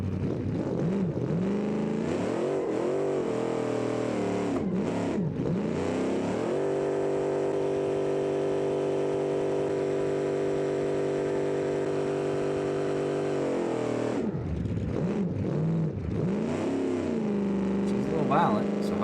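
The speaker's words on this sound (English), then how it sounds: "let's take her for a little test drive around town" The Tiara Victor car's engine drones close and loud on a drive around town, rising and falling through revs, with a long steady stretch in the middle and then swelling again.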